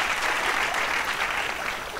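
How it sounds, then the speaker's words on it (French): Steady applause in the video game Zoo Tycoon fills the clip, a dense even patter of many hands clapping with no talk over it. "Merci madame d'applaudir."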